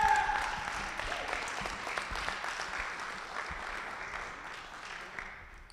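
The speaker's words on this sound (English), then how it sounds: "Let's give Dylan a big round of applause." An awards-ceremony crowd claps steadily for several seconds, the applause gradually thinning and fading toward the end.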